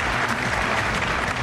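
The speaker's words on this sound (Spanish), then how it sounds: "Europa aplaude al rey de España." Sustained, dense applause from a large audience in the Strasbourg chamber greeting the King of Spain, steady and loud throughout.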